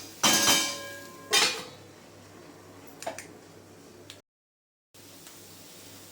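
Two sharp metallic clatters of a lid set over a pan, close and brief, followed by fainter small clinks and a short silent gap.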